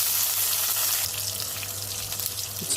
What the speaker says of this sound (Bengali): আর এদিকে ডিমের পেঁয়াজটা ভাজা হয়ে গেছে টমেটো দিয়ে দিলাম